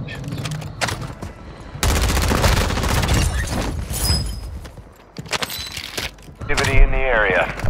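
Bursts of automatic gunfire in Warzone Resurgence on the Vondel map, fired from a TAQ-V rifle in several loud clusters separated by short pauses, with game effects and a player's voice in between.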